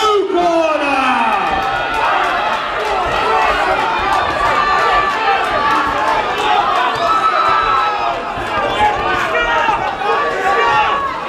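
Crowd at a white collar boxing event in Blackpool cheering and shouting loudly and continuously throughout, a dense roar of many voices close around.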